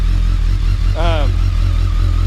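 A 2007 BMW K1200S motorcycle with a Remus aftermarket exhaust idles with a deep, steady throbbing rumble up close, while a voice briefly speaks over it.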